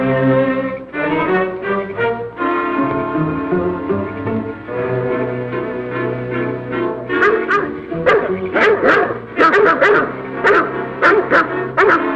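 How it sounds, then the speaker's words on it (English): Several dogs bark and yip in a lively burst, starting sparse and building to rapid overlapping barks near the end, fairly close and loud, in a 1939 Hollywood film scene. "Hear those dogs?"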